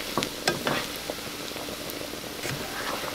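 Vegetable fried rice sizzles in a pan as sesame oil is stirred through, a soft crackling hiss with a few sharp scraping ticks from the utensil near the start.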